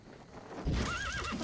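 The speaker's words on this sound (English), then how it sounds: "Ah, here comes the horsey." A horse arrives in the video game MGS V The Phantom Pain: hooves clip-clop steadily, then a loud, close, wavering neigh rises over them.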